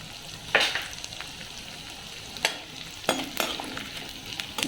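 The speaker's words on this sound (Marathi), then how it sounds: "आता याच्यात थोडा थोडा डिंक घालून मी तळून घेणार आहे" Edible gum (dink) fries in hot ghee over a slow flame, giving a faint crackling fizz with several sharp bursts and pops as the pieces puff up; no voices.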